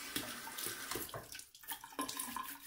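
A bathroom tap runs into a sink while a man splashes water onto his face before a shave, a steady close rush broken by brief splashes and cupped-hand sounds, with no talking.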